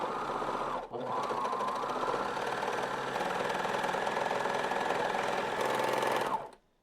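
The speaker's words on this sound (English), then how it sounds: "and then serge down the outseam" A serger sewing machine stitches down the outseam of patchwork sweatpants with a loud, close, steady mechanical whir. The whir stops briefly near the start, then runs continuously for several seconds before winding down.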